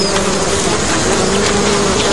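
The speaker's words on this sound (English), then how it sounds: "Insects plague his skin." Swarming insects buzz in a close, steady, continuous drone around an early human's skin, with no voices present.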